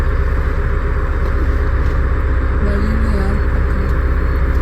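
Steady loud road rumble from vehicles moving along a forest road through Sathyamangalam Tiger Reserve, a continuous engine drone with no gaps.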